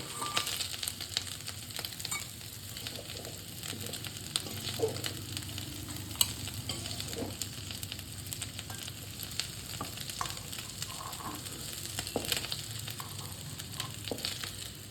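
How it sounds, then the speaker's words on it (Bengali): Small prawns fry in hot oil, giving a steady sizzling hiss with occasional light pops and stirring clicks, moderately quiet and continuous with no talking. "চিংড়ি মাছটা ভাজা হয়ে গেছে"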